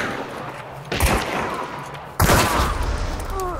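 Bornheim pistol shots in the video game Hunt: Showdown, two sharp loud reports about a second apart, each leaving a ringing tail, with no talk during the shots.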